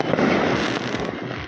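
Firecrackers and fireworks at a Lunar New Year celebration in Vietnam crackle in a loud, dense barrage of rapid pops and bursts, a continuous roar of blasts close by.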